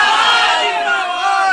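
A large crowd of supporters gathers at a Chirag Paswan political campaign event, making a dense, loud, continuous roar of shouting and cheering voices that holds steady throughout.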